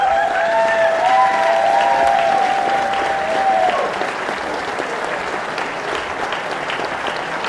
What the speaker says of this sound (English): one more applause for the puppeteers